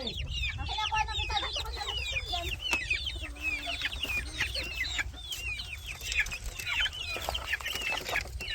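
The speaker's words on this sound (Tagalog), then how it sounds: "Tayo po ay magpapakain ng ating mga alagang manok." Pet chickens cluck and chatter busily at feeding time on a rural farm, many birds calling over one another at close range, with occasional sharp knocks and a steady low background hum.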